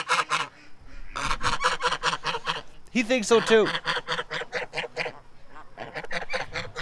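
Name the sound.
goose honking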